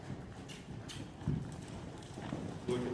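Horse cantering under saddle during early training, a steady run of soft, muffled hoofbeats on the ground, faint and close, with no voices.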